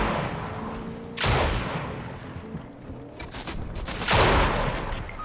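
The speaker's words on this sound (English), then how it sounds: "I was shooting up top" Bursts of video game gunfire, two loud volleys about three seconds apart with rattling decay between them, close and dominant with no talk over it.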